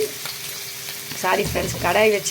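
Oil heating in a kadai for roadside-style egg fried rice, giving a close, steady sizzle that swells louder toward the end.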